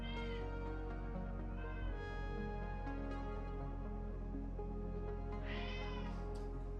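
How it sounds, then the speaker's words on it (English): A cat whines and meows faintly in the background, its thin calls drifting over a steady, loud tonal backdrop of music or electronic hum, with no talk. "You may hear our cat in the background because he's being a little bit of a numbnuts today."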